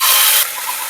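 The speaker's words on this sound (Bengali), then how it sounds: "আমি এবারে দিয়ে দেবো পেঁয়াজ বাটা।" Onion paste hits hot oil in a pan, a loud bright sizzling hiss that surges at first and then settles to a steady frying crackle.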